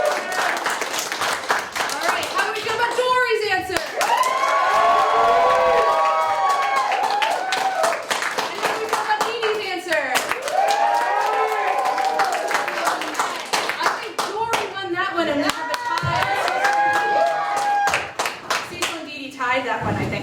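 A live audience claps and cheers loudly to vote for a contestant's answer at a game-style show, a dense wash of applause and shouts running throughout with voices rising over it.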